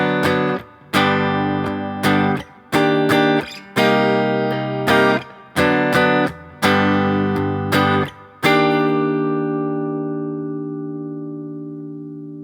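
Guitar chords from a song, strummed in a steady sequence, each ringing briefly before the next, ending on one chord left to ring out and fade.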